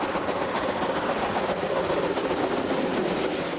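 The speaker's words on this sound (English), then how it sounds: "our state-of-the-art loco has the task of hauling the train up the narrow Albula Valley." A Glacier Express train hauled by a modern Rhaetian Railway electric locomotive climbs the narrow Albula Valley after Filisur. It gives a steady close rumble and rolling wheel noise with faint rhythmic clatter and no talk.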